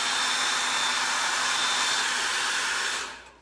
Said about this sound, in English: You can get close with the dryer.